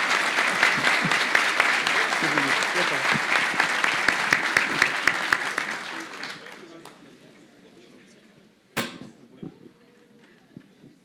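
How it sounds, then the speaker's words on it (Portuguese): Audience at a Brazilian federal court anniversary ceremony breaks into sustained, loud applause that holds steady for several seconds, then thins and fades, with a few scattered claps and a brief bump of noise near the end. "Eu peço uma salva de palmas, então, a toda a equipe"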